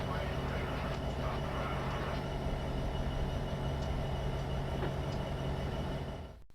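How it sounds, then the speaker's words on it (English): A train slows to a stop in Train Simulator 2015, with a steady rumbling rail drone and faint squeals that cut off abruptly at the end. "Congratulations, you have successfully stopped the train."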